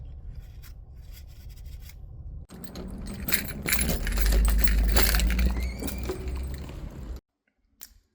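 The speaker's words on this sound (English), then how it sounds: "I'm about to pick up my keys to my new store" A bunch of keys jangles and clinks close up, with rustling and handling for several seconds as the keys to a new retail shop are picked up, then stops abruptly.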